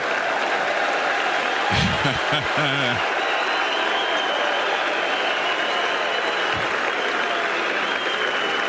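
A French Open tennis crowd bursts into loud, sustained applause and cheering after a tweener shot in a Del Potro versus Mahut match, dense clapping filling the whole stretch while a commentator briefly talks over it.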